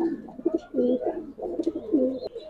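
Pigeons coo in repeated throaty, rolling phrases at a pigeon seller's stall stocked with silver Mushal Dom birds, the calls close and steady with a few brief chirps over them.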